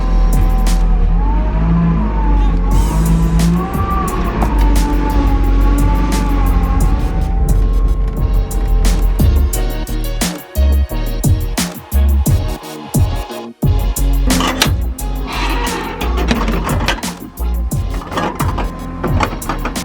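Mazda Miata with a loaded roof rack driving along, its engine loud and close, revving and shifting through changing tones with brief dips between pulls, no talking.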